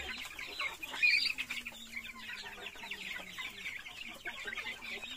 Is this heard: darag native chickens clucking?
yes